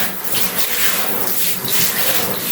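Close, steady splashing and gushing of water poured over potted orchids and their roots and growing medium to soak them, a continuous shower-like hiss with gentle pulsing swells and no talk.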